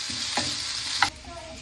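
Sliced onion, garlic, ginger and curry leaves fry in a pan for a mutton stew, a steady loud sizzle with a couple of brief stirring scrapes, close up and with no voices.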